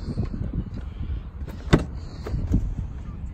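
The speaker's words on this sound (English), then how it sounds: "we've got four electric windows and electric folding mirror" Electric windows on a 2009 Mercedes C220 AMG whir as they move, a steady close motor hum inside the car with a sharp click or thud partway through.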